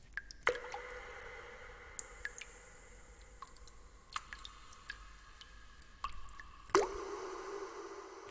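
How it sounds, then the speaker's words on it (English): Scattered water drips plink at an irregular pace over a faint hiss in an underground space, with some drops sharper and closer, echoing slightly. "Next step, the water dripping."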